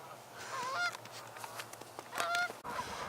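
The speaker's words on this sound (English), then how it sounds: "Geese on the pond are having a bit of a ruckus." Several geese on a pond under a high-level bridge honk and squabble noisily, their harsh calls overlapping in bursts with a faint steady hum beneath.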